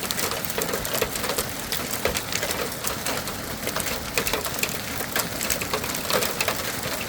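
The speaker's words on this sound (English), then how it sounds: "Oh, now it's gonna rain." Steady rain falls during a fall thunderstorm at a rural homestead, a dense continuous patter with scattered louder drops and faint bird calls in the background, no voices heard.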